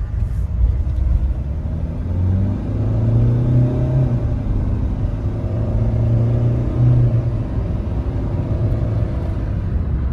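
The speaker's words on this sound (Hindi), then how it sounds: "हम थोड़ा इसको रैव करके देखते हैं रिस्पॉन्स गाड़ी का कैसा है" Engine of a 2019 Hyundai Creta automatic revving, heard from inside the car as a loud low droning rumble that rises and falls in pitch over steady road noise.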